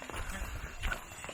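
Horse hooves clip-clop along a hill path at Matheran hill station near Mumbai, a few soft, irregular knocks heard faintly amid outdoor ambience and murmuring voices.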